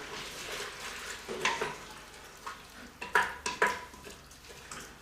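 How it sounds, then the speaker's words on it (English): Soft sizzling as brandy hits venison liver in a hot pan, with a few sharp clinks and scrapes of a utensil stirring, close by and fairly quiet, no voices. "can hear that sizzle"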